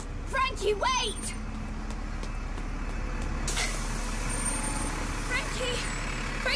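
A bus pulls away with a long, loud hiss of released air brakes over a steady engine rumble, while a person shouts and calls out nearby.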